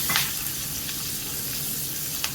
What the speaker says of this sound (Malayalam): ഇതെല്ലാം കൂടെ നമുക്കൊന്ന് വറുത്ത് എടുത്ത് കൊണ്ടുവരാം